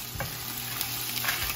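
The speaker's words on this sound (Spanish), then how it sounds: "estaremos friendo los chiles, los ajos y la cebolla." Chiles, garlic and onion fry in a pan for a fish and shrimp broth, giving a steady close sizzle with soft stirring scrapes and no talk.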